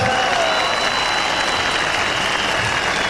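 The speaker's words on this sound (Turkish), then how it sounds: "bir kuvvetli alkış" A large outdoor political rally crowd in Çağlayan, Istanbul, claps loudly for two MPs, a dense, unbroken roar of applause with a faint whistle over it.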